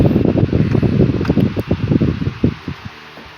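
A 1980s Northernaire 12-inch fan runs close to the microphone, its airstream producing a steady, fluttering whoosh that eases off slightly at the end.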